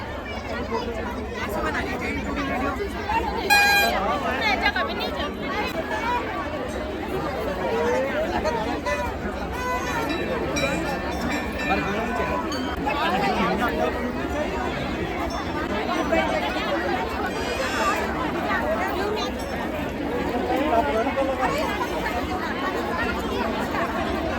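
Dense crowd chatter fills the Khairling kauthig mela fair in Kweeth, a steady hubbub of many overlapping voices with occasional louder calls and shouts nearby, continuous and fairly loud.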